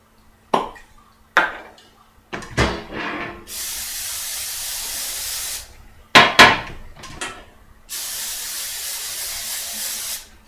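Metal cookie sheets are greased for Pfeffernusse in a home kitchen with several short sprays of cooking spray, separated by clanks and taps as the pans are handled and set down.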